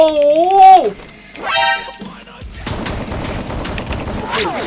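Rapid gunfire rattles in the Free Fire game, a dense burst of shots following a stretch of squealing, tonal effects, close and continuous over the last half of the moment.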